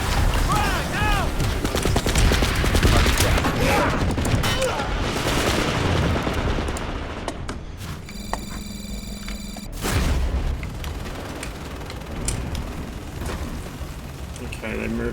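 Repeated booming blasts and rattling gunfire from a frag grenade fight in Planetside 2, loud and dense with a brief lull partway through, mixed with game sounds and some voice.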